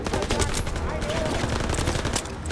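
Video game gunfire aimed at enemies' legs, a string of rapid sharp shots in an irregular rhythm, moderately loud, mixed with excited talking from a player.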